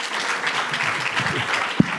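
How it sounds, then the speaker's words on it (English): A brief burst of steady audience applause at a panel discussion, continuous clapping with a single sharp knock near the end. "Another round of applause for Rudy Mateer."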